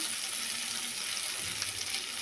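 Chili and coriander powder sautéing in oil, a faint, even sizzle heard close with little variation and no voices.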